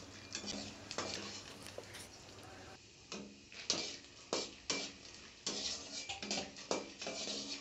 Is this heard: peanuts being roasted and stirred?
yes